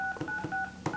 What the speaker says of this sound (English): I'm letting my sushi in on Paul's phone right now